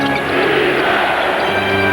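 Basketball crowd at the Bradley Center roars and chants defense during a Bucks playoff game, a sustained loud wall of massed voices.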